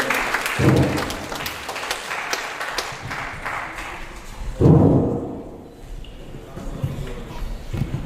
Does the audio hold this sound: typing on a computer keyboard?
no